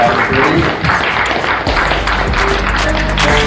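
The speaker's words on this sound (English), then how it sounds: "I want to give one last big round of applause for Lieutenant Colonel" An audience at the close of an event applauds Lieutenant Colonel McBrearty with a dense, steady wash of many hands clapping that holds at even loudness throughout.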